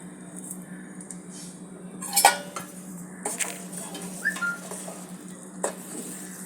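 A spoon stirs basundi milk and instant dessert powder in a metal pot, giving scattered clinks and scrapes against the rim, one louder clatter early, over a soft low background hum.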